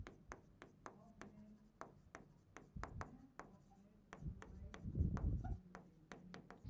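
Someone writes on a board with a series of quick, sharp strokes and taps in an irregular rhythm, close and fairly quiet, with some faint low background murmur.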